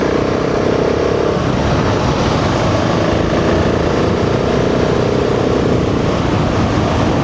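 A BMW G650 XCountry motorcycle riding along a road through a series of corners, its engine droning loud and steady with light shifts in pitch, mixed with constant wind rush and no talking.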